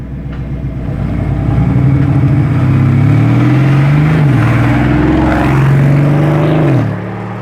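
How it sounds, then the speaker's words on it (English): A Lamborghini Urus SE engine roars loud and close, rising and falling through revs for several seconds before cutting off abruptly near the end. "That was a very loud Urus SE!"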